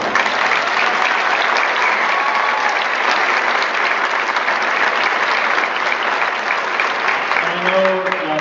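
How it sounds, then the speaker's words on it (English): An audience applauds honor band students at a concert, steady full clapping from a large crowd that holds evenly throughout, with a faint instrument tone surfacing near the end. "Can we give them a round of applause?"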